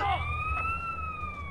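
A police siren wails steadily in Grand Theft Auto San Andreas, a loud, clear rising-and-falling tone over low engine rumble, heard alone.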